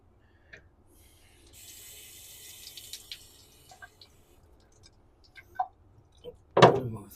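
Tap water runs faintly for a couple of seconds as sharpening stones are rinsed at a sink, followed by scattered knocks and clunks of stones being handled, ending in one louder thud.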